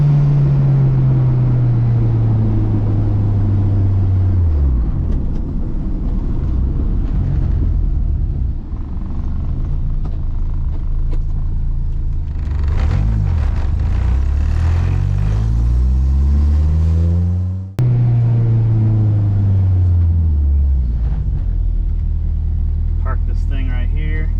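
A Honda car with a VTEC B- or K-series engine drives past, its loud engine note rising and falling through several gear changes with a steady rumble underneath, and voices can be heard over it.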